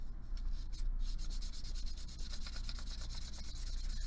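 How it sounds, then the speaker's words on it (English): Fine sandpaper, 320 grit, is rubbed around the metal edges of a sawn and soldered hair fork piece, giving a steady, close scratchy rasp with quick repeated strokes that speed into a rhythmic rubbing pattern. "I'm going to take some 320 grit sandpaper, and I'm just going to sand around the edges of my eye."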